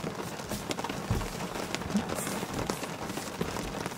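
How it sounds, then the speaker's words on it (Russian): Rain patters steadily on the roof of a car parked during a mountain road trip, a soft, dense drumming with scattered louder drops heard from inside the vehicle. "Дождик еще лупит по крыше, да?"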